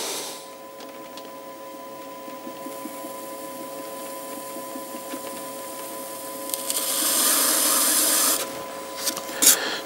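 A clay jar is trimmed at the foot on a spinning pottery wheel, giving a steady motor hum with scraping that grows louder and more hissing toward the end, with no talk.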